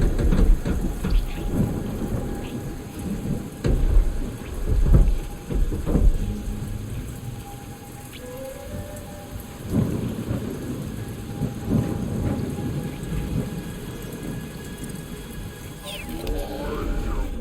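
Rain pours and thunder rumbles in a heavy storm on Katath in the video game Guardians of the Galaxy, with deep booms and cracks rising and falling over a steady downpour.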